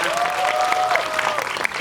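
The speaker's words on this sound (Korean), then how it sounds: "네, 박수 부탁드립니다." An audience at a film talk event in a Megabox COEX cinema hall applauds, giving continuous dense clapping at steady volume with a faint sustained tone running beneath the first half.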